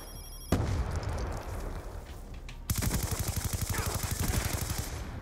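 Rapid automatic gunfire shoots through a wall in Call of Duty Black Ops 2 on Xbox 360, with an earlier noisy burst giving way to a steady rattling stream of loud shots.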